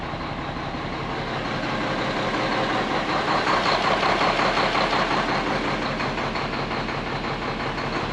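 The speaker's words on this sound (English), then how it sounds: "we got the freight liner running" A Freightliner truck engine idles with the computer hooked up for a cylinder cutout test, a steady, even rumble with rhythmic knocking, close and continuous throughout.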